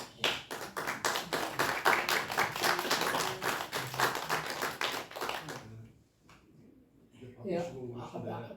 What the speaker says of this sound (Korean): 그래도 감사한 마음으로 박수를 하시겠습니다